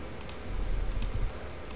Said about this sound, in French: vous entendez mes clics de souris.